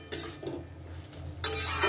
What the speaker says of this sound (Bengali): এবার আমি ঢাকনাটা একটু তুলে দেখে নিই